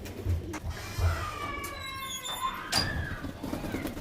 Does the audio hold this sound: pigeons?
yes